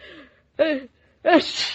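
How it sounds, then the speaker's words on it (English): A woman with a cold sneezes, a wet explosive burst that follows an earlier sharp one, set within a quiet indoor scene where people talk before and after. "Mama, you sneezed."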